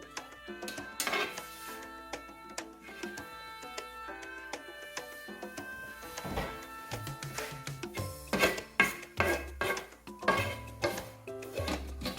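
Sow thistle tea leaves being flipped and tossed in a hot pan over a fairly strong flame to dry them, a series of scraping, rustling knocks that come in clusters with small gaps between them.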